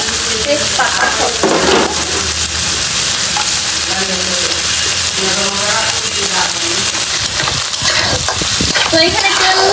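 Chopped onions fry in oil with cardamom, cinnamon and bay leaves added, a loud constant sizzle with frequent scraping stirs of a spoon against the pan, close and busy, with faint voice-like sounds mixed in.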